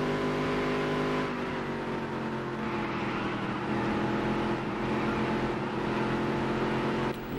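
A NASCAR race car engine in the Dirt To Daytona video game drones steadily and loudly throughout, its harmonic tone holding nearly constant with no voices over it.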